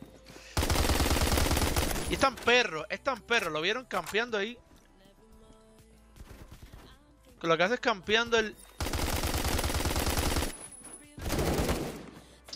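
Automatic gunfire from the Phantom Forces video game, loud rapid bursts in several sustained volleys, with someone talking between and over the shots.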